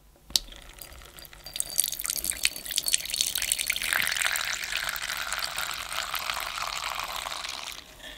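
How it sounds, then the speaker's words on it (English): Water drains from the hose of a Tomy Minimatic toy washing machine into a bowl, a soft steady trickle and splash after an initial click, fairly faint and close throughout. "I'm going to drain out the water. I've got myself a bowl here. So first I'll just unhook the hose and then release the cap."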